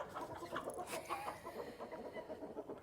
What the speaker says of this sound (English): These roosters are getting busy while we're in here.